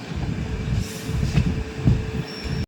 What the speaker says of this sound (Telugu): మురుదేశ్వర్ ట్రాక్ మెయింటెనెన్స్ వల్ల ట్రైన్ మెల్లగా వెళ్తుంది.